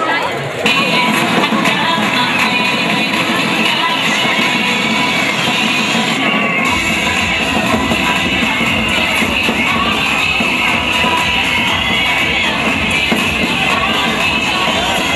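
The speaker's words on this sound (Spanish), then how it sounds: "Damas y caballeros, un fuerte aplauso para Natalia Gisela Heras Aguilar" Crowd at a parish queen election and coronation applauds and cheers the newly crowned queen, a loud, dense, continuous wash of clapping and voices filling the whole stretch, growing fuller partway through.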